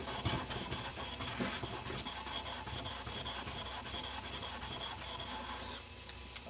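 A steel blade bevel rubbed back and forth on a sharpening stone, giving a steady, close gritty rasp with even strokes and no voices.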